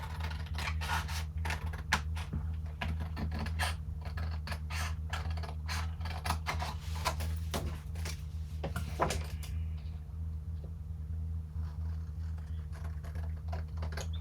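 Scissors snipping through paper postcards while fussy cutting by hand, a steady run of close, crisp clicks and scrapes over a constant low hum, fading to quieter handling near the end.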